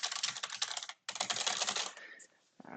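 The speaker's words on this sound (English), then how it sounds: "You could type your note here," Quick, fairly quiet keystrokes clatter on a computer keyboard in two bursts with a short pause between, then taper off, as a note is typed into an electronic medical chart.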